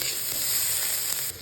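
Ingredients fry in a pan with a continuous, fairly loud hissing sizzle that eases off near the end.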